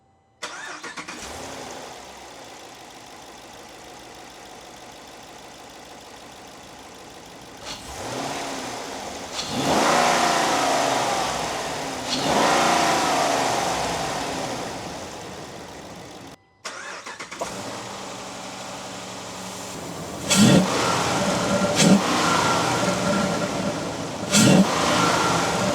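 Ram Power Wagon truck engine fitted with a K&N cold air intake, starting up and settling into a steady idle, then revved hard in several surges, the last ones as short sharp blips, close and loud with no talking.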